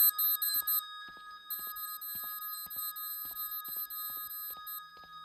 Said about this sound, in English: Doug runs far away from the sound of that alarm.